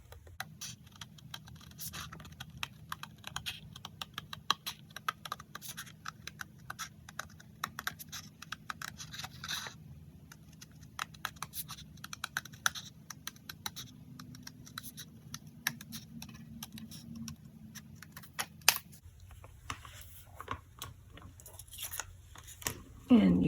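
Scissors cutting cardstock along a drawn line for a rocker card, a steady run of small crisp snips and scratches, faint and close, with someone talking quietly over it.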